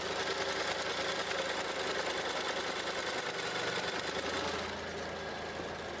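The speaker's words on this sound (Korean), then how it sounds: "바로 엔진 소리 한번 들려드릴게요." A Land Rover Range Rover Evoque 2.0 SI4 petrol engine idles with the bonnet open, a steady, close mechanical hum with a fast even ticking rhythm that eases slightly in level near the end.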